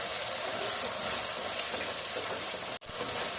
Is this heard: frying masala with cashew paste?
yes